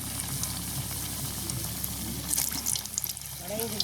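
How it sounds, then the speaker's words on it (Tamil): Vada lentil fritters frying in hot oil at an outdoor village cooking setting, a steady dense sizzle and crackle throughout with brief louder bubbling bursts toward the end, voices faint in the background. "இப்போ இங்கே வந்து வடை சுட தொடங்கியாச்சு"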